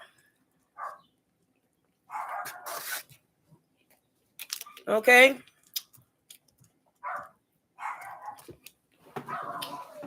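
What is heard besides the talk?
small dog barking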